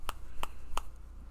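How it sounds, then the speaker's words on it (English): Three sharp, evenly spaced taps of a cigarette being tapped, each a crisp click close to the microphone, over a low background hum. "I do apologize for the noise of my tapping cigarette"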